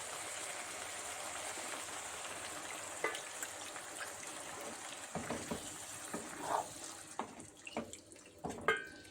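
Water poured into a pan of sautéed leeks rushes steadily, then breaks into scattered sizzles, bubbles and clinks as the pouring stops.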